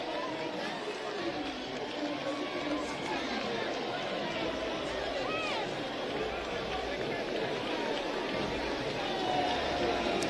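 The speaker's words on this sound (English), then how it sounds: "The crowd has responded." Large crowd in a stadium in Accra at the African Senior Athletics Championships relay final: a dense, continuous roar of babble and chatter that holds steady throughout without clear peaks.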